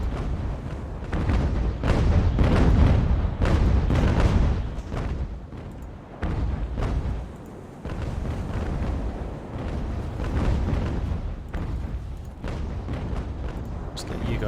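Naval cannon fire from sailing warships in Ultimate Admiral: Age of Sail, a run of heavy booming blasts rolling one after another over several seconds, mingling with someone talking over the battle.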